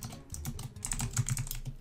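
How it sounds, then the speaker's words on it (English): Rapid clatter of computer keyboard keys during a Minecraft speedrun session, close and fairly steady with uneven bursts of clicks, and no talking. "Stop typing,"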